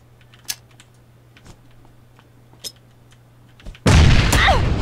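A loud cannon-like gunshot in the PUBG battle royale game on the Erangel map. It bursts out suddenly after a few faint clicks and a stretch of near quiet, then rumbles on heavily until the end.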